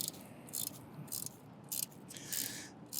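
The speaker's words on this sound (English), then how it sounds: "this is a 10mm ratchet. Come back here and tighten the bolt" A 10mm ratchet tightening a fender bolt on a recumbent electric trike, short bursts of quiet rapid clicking repeated four or five times close by.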